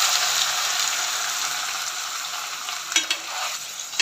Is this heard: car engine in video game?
no